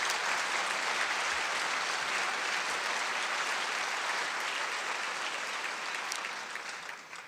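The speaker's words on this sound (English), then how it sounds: "let's have another round of applause to all of our sponsors and supporters here in the room today" Sustained applause from a luncheon audience in a banquet room, a dense even wash of many hands clapping that holds steady and then tapers off near the end.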